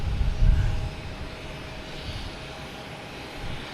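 Airliner jet engines at Boston Logan Airport give a distant, steady roar that swells briefly at the start and then settles into a low, continuous drone with no talk.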